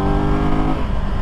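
A 2022 Triumph Tiger 1200 GT Pro sport-touring motorcycle's engine roars loudly and continuously as it pulls hard under acceleration, with a strong, steady drone and no voices.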